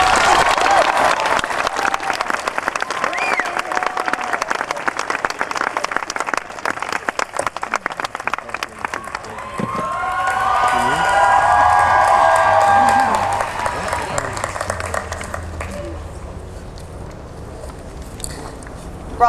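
Audience applause at a UCLA graduation ceremony, a dense sustained clapping crowd that swells and fades, with voices and a few cheers mixed in and a speaker's voice over the latter part.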